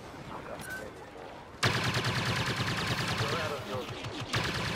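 AA turret firing in Star Wars Battlefront, a rapid, loud burst of repeated shots that starts abruptly after a quieter stretch and continues steadily, with player voices faintly underneath.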